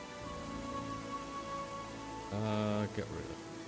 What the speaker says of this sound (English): Now you're venturing in the rain.